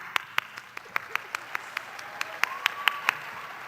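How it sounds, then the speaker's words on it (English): Sparse, separate hand claps ring out at a radio station Christmas event, about a dozen sharp claps in an uneven rhythm over a quiet room, with a faint tone briefly underneath. "we applaud you"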